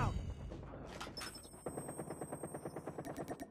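Sentry gun in Call of Duty Mobile firing a rapid, evenly spaced burst of automatic shots, loud and close, with game noise before the steady rattle begins.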